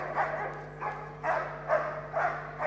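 A police dog at a police display at Crufts barks repeatedly, about five sharp barks in an uneven rhythm at moderate distance over a constant low hum of the arena.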